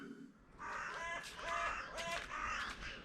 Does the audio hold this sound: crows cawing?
yes